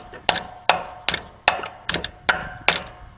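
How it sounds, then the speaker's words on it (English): Seven sharp metallic hammer strikes ring out at a steady rhythm, each a close, bright clank on a metal punch with a short ringing tail, knocking out a part of a Cub Cadet steering gear. "get a hammer and a punch to it to knock it out"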